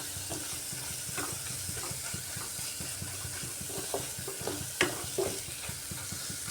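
Spice masala frying in oil until the oil separates, cooked for a gram-flour potol sabji: a continuous crackling sizzle with repeated rhythmic stirring scrapes and a few sharper clinks, close and steady, no talk.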